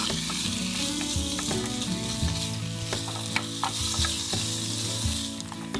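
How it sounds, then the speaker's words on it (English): Wild hog pork fat pieces render and fry in a pan, a steady loud sizzle with occasional crackles and pops throughout, no voices. "You can see that fat's rendering down really, really nice"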